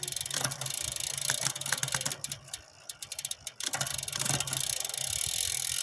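A MicroNew 2x11 road bicycle shifter clicks through gears with crisp ratcheting ticks in short bursts over the whir of a spinning drivetrain, close up, with a brief quieter pause midway.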